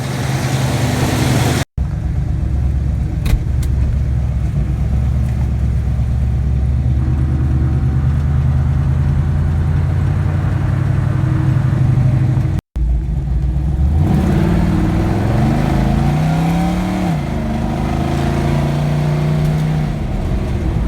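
A 1974 Chevy Nova engine running rough on a test drive, leaking oil onto its header, drones loud and close, then revs and accelerates with rising pitch sweeps, with no talk.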